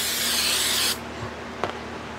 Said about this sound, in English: Now I will take accelerant. Spray my piece here.